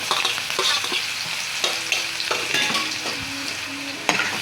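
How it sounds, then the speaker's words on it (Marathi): Crushed garlic and chili paste for baingan bharta frying in hot oil, a steady sizzle with spoon stirring and scraping against the pan, close and fairly loud with no talking. "लसूण टाकूया आपण बारीक कुटलेला"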